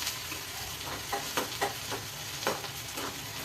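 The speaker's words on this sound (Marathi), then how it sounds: "त्यामध्ये ते फोडीव झुणक्याचं ते टाकून द्यायचं आणि चांगलं परतून घ्यायचं" Onion and crumbled zunka (pitla) mixture being stirred in an oiled pan, with a steady sizzle and several distinct scraping strokes of the spatula, close and clear, no voices.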